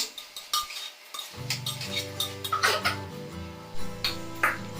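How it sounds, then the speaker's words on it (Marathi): Potato and eggplant sautéed in oil in a pan, with a low sizzle under repeated metallic clinks and scrapes of a spoon against the pan, each one close and distinct. "बटाटा आणि वांगे घालून घ्यायचे आणि मग चांगले तेलामध्ये परतायचे"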